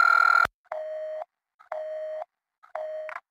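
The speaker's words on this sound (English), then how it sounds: "Beep." A telephone line giving three evenly spaced electronic beeps after an automated recorded message cuts off, each tone lasting about half a second with short silent gaps between them.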